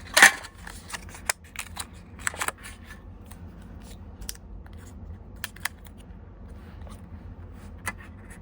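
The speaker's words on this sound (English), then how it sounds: "I am going to go ahead and cut out some black cardstock to put behind them." Scissors snip through black cardstock in short, crisp bursts, with a few sharp cuts near the start and scattered quieter snips after, close and alone without talk.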